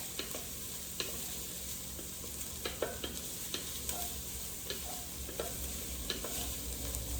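Garlic and red pepper flakes frying in a pot: a steady close sizzle with scattered scraping stirs and light clicks of a utensil, continuous throughout without talk.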